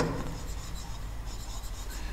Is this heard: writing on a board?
yes